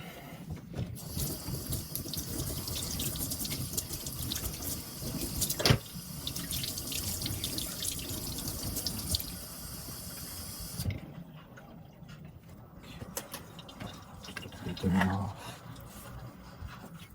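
Tap water runs steadily into a sink to rinse a repaired old machete with black patina, a continuous hiss that stops about two-thirds through, leaving quieter handling noises.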